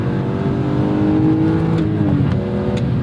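A 2001 BMW M3 E46 engine pulls steadily while driving, a loud, continuous smooth drone with rising harmonic tones as it revs, close and alone with no talk.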